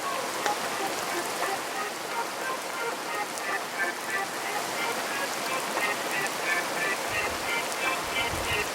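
Rain falls steadily outdoors on a dark, wet evening, a dense even patter of drops on surfaces filling the scene, close and continuous with no break.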